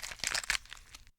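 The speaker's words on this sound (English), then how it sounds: "Sloshing, chewy, animalistic like noises tearing into something." Wet, chewy tearing and crunching from a creature feeding in a video game, a dense burst of squelching rips and crinkles that fades out after about a second.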